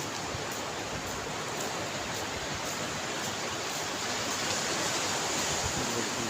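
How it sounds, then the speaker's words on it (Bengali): Ocean surf at Cox's Bazar beach, a continuous broad wash of breaking waves at moderate level with no distinct individual crashes and no talking. "আমি আপনাদেরকে কক্সবাজারের কিছু ঢেউ এবং"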